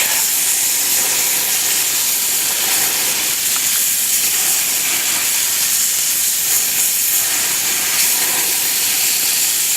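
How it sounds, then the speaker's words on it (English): Steaks stood on end in a hot pan to crisp the fat, giving a loud, steady, close sizzle and hiss that runs unbroken with no talking. "just to crisp that fat a little bit, stand your steaks up on end"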